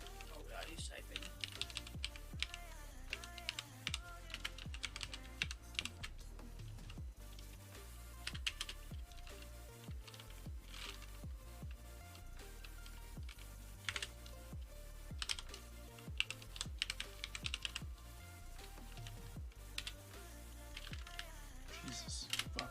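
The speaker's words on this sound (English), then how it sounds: "he's typing" Keyboard typing keeps going for over twenty seconds as a steady stream of quick clicks. It sits under louder music and talk, never alone, and is fairly faint in the mix.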